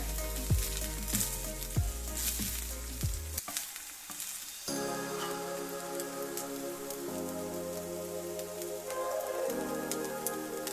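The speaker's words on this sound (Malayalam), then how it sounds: "ബീഫ് വെച്ച് കോഫ്ത ബോൾസ് വറുത്തെടുക്കാനുള്ള ഒരു സമയമാണ് ഇതിന് വേണ്ടി വരുന്നത്" Oil sizzles and crackles steadily as beef kofta balls fry in a pan, with light stirring and a constant hum in the background.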